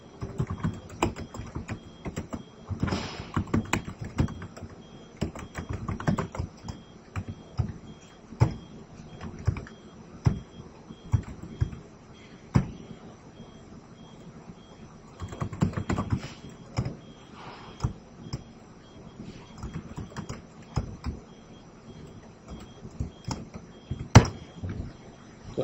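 Steady typing on a computer keyboard while entering SQL data, irregular clusters of soft clicks and firmer key taps running continuously, fairly close with a faint background hum.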